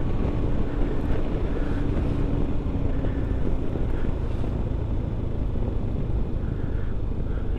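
A motorcycle rides through the city in the early morning, its engine a steady low rumble buried under heavy wind buffeting on the microphone, with no talk.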